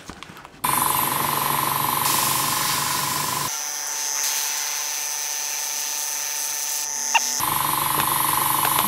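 A continuous hissing spray of liquid solvent runs over a steady mechanical whine, with the tone shifting partway through before returning; no voices.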